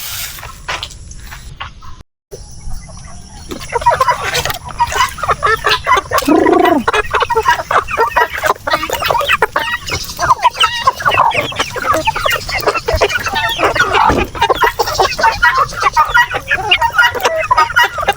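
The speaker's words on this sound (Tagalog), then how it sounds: "favorite yan ng ating mga alagang manok" Chickens cluck steadily and close by while eating papaya. Scratching and rustling fill the clip, with a steady high hum in the background.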